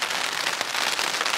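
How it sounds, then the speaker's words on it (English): Rain falls on the Appalachian Trail during a thru-hike, a dense, steady patter of drops drumming close on a nearby surface, continuous hiss with no voices. "a little rain right now."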